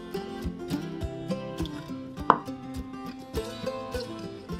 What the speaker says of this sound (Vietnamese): Phần nấm rơm thì các bạn thấy cái nấm nào to thì mình sẽ cắt nó ra làm hai như vậy.